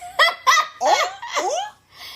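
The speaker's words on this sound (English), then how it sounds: "Cue the seagulls." Seagulls calling in a loud, close series of about five honking, wavering cries with short gaps between them, alone with no talk.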